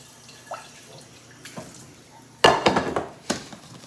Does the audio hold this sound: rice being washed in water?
yes